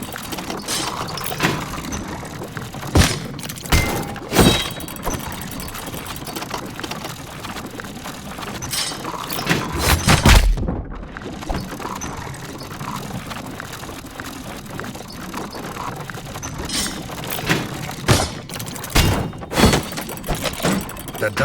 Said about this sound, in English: His only hope was to parry with his trusty shield.